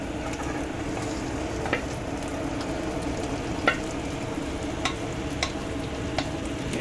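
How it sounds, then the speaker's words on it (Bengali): Chicken frying in oil for chicken kosha, a steady close sizzle that holds evenly throughout, with a few soft clicks of stirring over the hiss. "তেল ছেড়ে দিয়েছে চিকেনে, এবার নীলাদ্রি দিয়ে দিচ্ছে চিকেন কষা"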